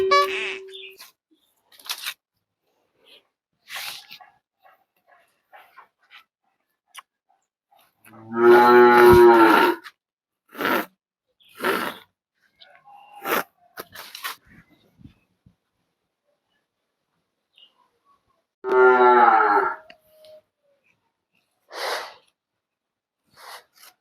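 Two long, loud cattle moos stand apart, separated by scattered clicks, snorts and rustling in a quiet barn-like space.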